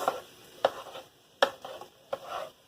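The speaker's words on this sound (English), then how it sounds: "We're going to dump in our onions and shallots." Chopped onions and shallots are tipped into hot oil for a Malaysian coconut chicken curry, making a few separate scraping clatters, each followed by a soft sizzle, close and fairly quiet.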